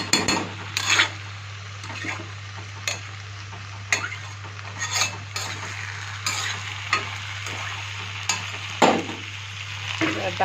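Mutton sautéing slowly in a pot, a low steady sizzle with the scrape and clink of a spoon stirring at irregular intervals, close and without talk.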